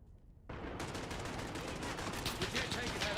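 A machine gun nest in Call of Duty Modern Warfare opens up with sustained rapid automatic fire, a dense, loud, continuous rattle that starts abruptly and runs to the end.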